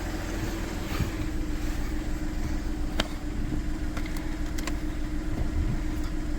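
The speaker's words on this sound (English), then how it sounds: "I'm gonna do a run now and let's see how much power extra it got." A Volkswagen Polo 1.2 TDI BlueMotion diesel with its DPF deleted runs on a dyno, a loud, steady engine drone held evenly for the whole stretch, with a few sharp clicks and no talk.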